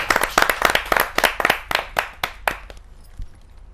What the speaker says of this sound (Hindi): जोरदार ताली के साथ हम करते हैं।